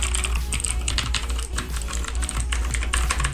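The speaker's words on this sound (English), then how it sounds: "Pretty loud, really responsive. Oh yeah, that's a crispy keyboard right there." Fast, crisp typing on a cheap vintage-style computer keyboard with old-school keycaps, a dense run of loud, sharp clicky keystrokes close to the microphone with no voices.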